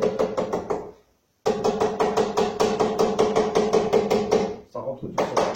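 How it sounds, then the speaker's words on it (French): A rubber mallet taps wooden paneling into place with quick, even knocks in close succession, pausing briefly twice before the tapping resumes, close and clear. "vous pouvez prendre le caoutchouc du marteau. Surtout pas le fer, le caoutchouc. Et petite frappe."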